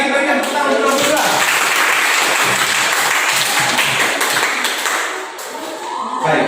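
A class of students applauds in a school lesson, a loud, sustained wash of clapping that eases slightly near the end before swelling again.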